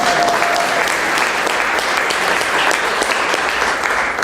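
Loud, sustained applause from an audience at a government announcement on apprenticeship grants for early childhood education, a thick continuous wash of clapping filling the room.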